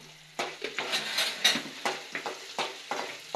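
Onions fry with salt in a pan, a steady sizzle broken by a regular run of scraping stirring strokes, close and clear, with no voices.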